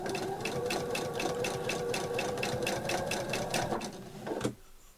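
A vintage sewing machine stitches down a zip, its rapid rhythmic needle clatter running steadily up close for about four seconds before stopping with a clunk, then near silence.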